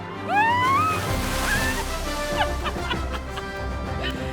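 Water sloshing and splashing steadily around a floating Bentley Bentayga SUV, with a dog barking briefly over the churning river.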